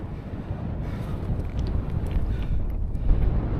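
Gusty wind buffets the microphone on the rocky summit of Esk Pike in the Lake District fells, a steady low roaring rush for a few seconds, close and unbroken, with no talk.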